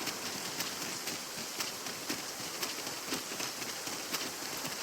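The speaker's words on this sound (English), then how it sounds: "We must be really down on our luck to get caught out in such a downpour" Steady downpour in the fantasy video game Dragon's Dogma 2, a dense, even hiss of rain falling on surfaces with faint irregular patters, continuous and fairly quiet with no talking.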